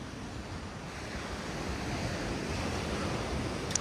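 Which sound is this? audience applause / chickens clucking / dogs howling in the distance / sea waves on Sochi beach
sea waves on Sochi beach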